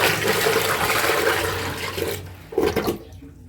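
Water pours and splashes steadily over freshly laid, levelled concrete in a small DIY masonry job, a loud continuous gush that falters and briefly resumes before stopping, with no talk.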